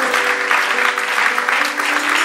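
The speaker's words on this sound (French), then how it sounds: "Vous ferez bien de bien acclamer." A church congregation applauds together, a steady, dense wash of clapping that holds at an even level throughout, close and full with no pauses.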